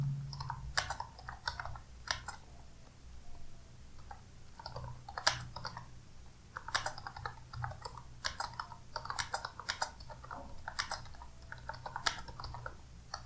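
Typing text on a computer keyboard while writing HTML code: a steady run of light, irregular key clicks up close, with no talking.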